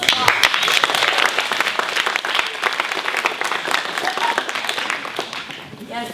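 Dense audience applause at an improv comedy show, loud, steady clapping that fills the whole stretch and eases slightly toward the end, with voices faintly mixed in.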